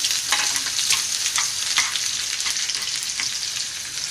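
Steady, dense sizzling of cumin, onion and garlic frying in hot oil as a tempering for dal, with crackles and pops throughout, close and fairly loud, no voices.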